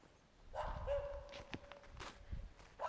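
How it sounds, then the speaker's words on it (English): A dog barks a few times at a distance amid outdoor rustling and footsteps, with a faint whine-like tone in the background. "my neighbor has a dog that likes to bark."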